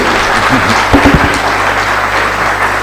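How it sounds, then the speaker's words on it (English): Audience applause at a literature festival session on Wajid Ali Shah for speaker Rosie Llewellyn-Jones, a loud continuous wash of clapping under steady low hum, with a brief low voice near the one-second mark. "A big round of applause for Rosie, Llewellyn-Jones."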